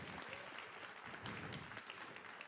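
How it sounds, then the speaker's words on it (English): A crowd applauding at a charity fundraising auction, a short dense burst of steady clapping heard at a moderate distance in a large room. "Give her a round of applause."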